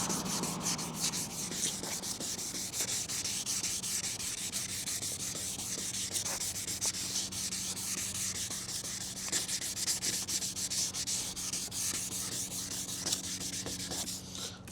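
Sandpaper rubbed by hand over the plastic headlight lens of a 2018 Lincoln MKC gives a continuous close, gritty scratching with quick back-and-forth strokes throughout.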